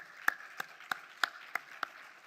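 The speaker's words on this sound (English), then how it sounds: "So let's give them an applause." Slow, evenly spaced hand claps, about six in a row, fairly faint over a low background hiss.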